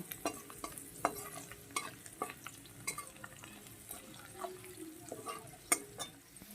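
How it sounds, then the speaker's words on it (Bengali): Soft, steady sizzling of radish greens frying, with light clicks and scrapes of stirring in the pan. "এটা একটু ভাজা হয়ে গেলে আমি মূলো শাকটা ছেড়ে দেব বন্ধুরা ছেড়ে দিয়ে সুন্দর করে ভেজে নেব"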